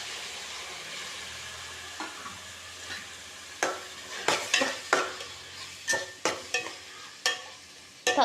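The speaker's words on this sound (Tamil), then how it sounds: "தக்காளியும் நல்லா வதங்கட்டும்." Tomatoes sauté for chicken gravy in a pan, a steady frying sizzle broken by a dozen sharp close spatula scrapes and clinks that come faster and louder in the second half.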